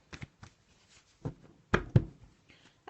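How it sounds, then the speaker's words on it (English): A deck of tarot cards is shuffled by hand in quiet surroundings, a few short, soft riffles and taps spaced irregularly over a couple of seconds. "I'm just having a little shuffle of the cards"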